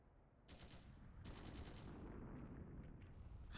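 Distant gunfire crackles from a neighbouring district in a video game: two quick automatic bursts, the second longer and more sustained, faint and muffled with no speech.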